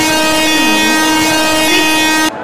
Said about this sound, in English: Palace on Wheels Special Express is scheduled to depart from platform number 1.